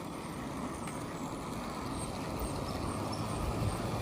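A warmed-up motorbike engine runs steadily with a low, continuous rumble and road noise, no talking, at a constant, fairly loud level throughout.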